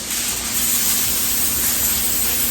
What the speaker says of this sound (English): we're gonna spray our foil.